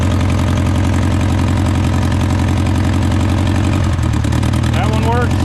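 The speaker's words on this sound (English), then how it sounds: "It runs. Look at that. And it smokes. We do have a cylinder misfire." Honda Civic engine left sitting for ten years, idling roughly with a cylinder misfire, a loud close uneven low rumble throughout, with a brief voice near the end.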